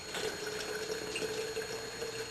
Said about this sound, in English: All you do is cover the pickles with the salt water.